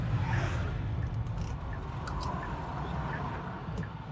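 A Hyundai Ioniq gathers speed on a road, giving a steady broadband rush of tire and road noise heard from inside the cabin, with faint chirps and clicks over the top and no talking.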